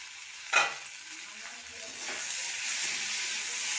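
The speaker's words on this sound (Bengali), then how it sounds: "দেখুন সবজিটা ভাজা ভাজা হয়ে গেছে" Chopped vegetables with spinach fry in a pan for a dish with lentil-dumplings, a soft sizzle that rises as a sharp clink sounds early on, then a steady hiss builds and holds, close and fairly quiet, with no voices.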